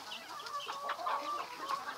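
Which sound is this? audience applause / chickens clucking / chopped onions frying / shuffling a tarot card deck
chickens clucking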